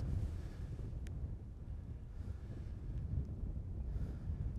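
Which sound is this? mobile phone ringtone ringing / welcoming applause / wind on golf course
wind on golf course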